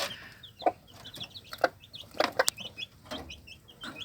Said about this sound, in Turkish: Tavuk arkadaşlar.